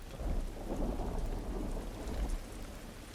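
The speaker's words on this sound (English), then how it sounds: "You hear the rain hitting the surface of the metal." Steady rain patters against a metal surface in the video game The Last of Us, with low rumbling swells that come and go, and no voices.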